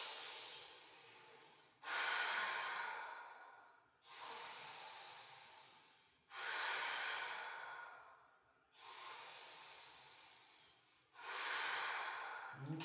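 Slow, deep breathing held through a yoga twist, five long airy breath cycles near and clear, each a broad hiss that swells and fades with short pauses between, no talking.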